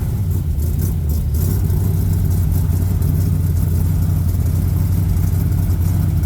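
A car engine runs steadily after starting, with a loud, close, continuous low rumble and a brief louder roughness in the first second before settling into an even idle.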